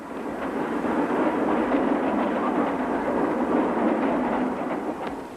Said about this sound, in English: every one of these movements brings trains through